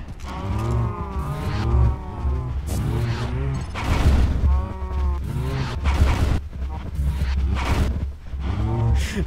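Repeated deep, drawn-out cow moos from a video game overlap one another continuously over a low rumbling background, loud and close.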